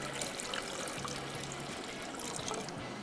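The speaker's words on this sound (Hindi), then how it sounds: "साथ में इसमें पानी भी हमने तकरीबन 1 कप शामिल कर देना है।" About a cup of water pours into a pot of vinegar for an instant pickle, giving a steady close trickle that runs unbroken for a few seconds, with no voices.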